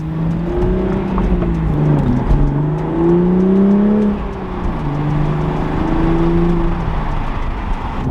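A manual A90 Toyota Supra's engine hums and revs steadily from inside the car, pitch rising and falling as it accelerates and shifts while driving, with an aftermarket charge pipe fitted.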